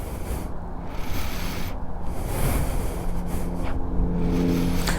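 Motorcycle ridden along in gear, its engine droning as a steady low hum under a continuous rush of wind noise that fills the whole stretch, with no talking.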